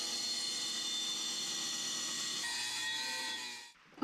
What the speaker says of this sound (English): grinder with a cut-off wheel and cut a new spatula